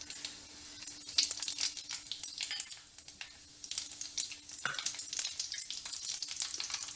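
Fenugreek, cumin and pepper sizzle and crackle in hot sesame oil, a steady close frying hiss broken by stirring scrapes and a spoon knocking the pan, with no talk.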